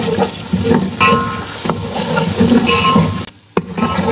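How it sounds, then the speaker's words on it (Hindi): Dried red chillies fry in oil with onion, garlic and ginger for kadhi pakora, a loud close sizzle with stirring clatter that briefly drops out near the end before returning. "अब इनको भी 1 से 2 मिनट के लिए भून लेंगे।"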